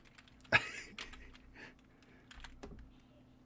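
Slow, uneven typing on a computer keyboard, quiet and close up, with a few sharper key clacks over a low electrical hum.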